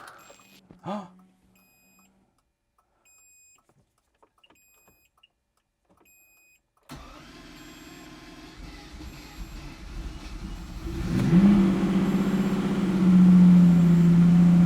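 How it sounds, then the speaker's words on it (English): A project car with a newly fitted Optima battery is quiet apart from faint electronic chimes, then the engine starts with a sudden rumble, idles, and rises into a loud, steady run by the end. "your car should already be running"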